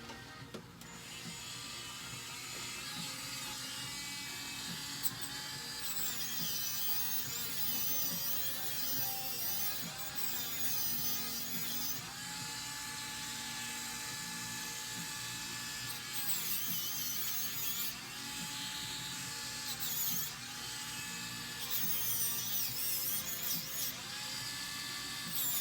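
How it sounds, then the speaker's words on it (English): A high, continuous whine of a small rotary tool with a 600 grit sanding disc grinding against sterling silver, steady and close, with slight shifts in pitch as pressure changes. "So I'm going to start off at my 600 grit sanding disc"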